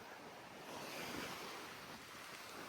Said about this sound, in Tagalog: So mahangin po dito.